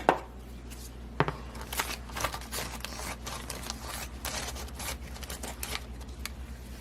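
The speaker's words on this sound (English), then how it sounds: "I'm just going to cut a piece as big as the hoop." Scissors cutting a piece of embroidery material or stabilizer to hoop size, a run of crisp snips and slicing strokes, close and fairly quiet with no talking.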